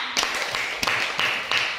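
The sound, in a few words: classroom clapping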